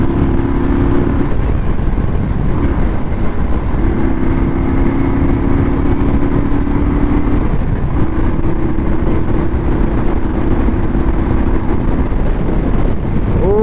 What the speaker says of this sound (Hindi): चलो थोड़ा सा अभी बाइक भगाते हैं।